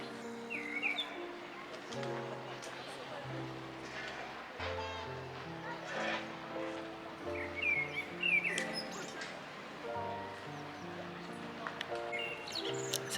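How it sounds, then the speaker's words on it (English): Birds chirp and tweet in a small Paris park near the Eiffel Tower, with scattered calls at moderate distance under steady talking and light outdoor ambience. "the birds are chirping"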